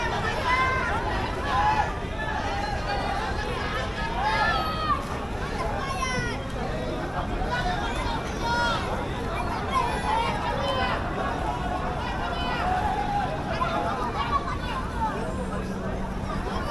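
Dense crowd chatter at the Narli Purnima festival by the sea at Dharamtar, a steady loud babble of many voices with occasional shouts, close and continuous throughout.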